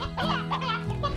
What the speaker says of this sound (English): Finally got a new rooster.